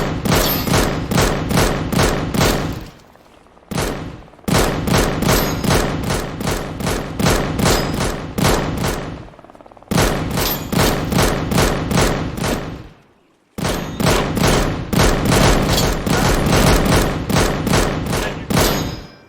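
Rapid automatic gunfire in the video game Deadside, loud sustained bursts of several seconds each, separated by brief pauses, with no talk over them.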